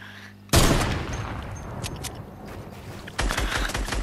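Gunfire in the video game Fortnite: a loud, sudden burst of shots opens after a brief quiet, followed by sustained crackling fire and a second dense volley near the end, close and loud.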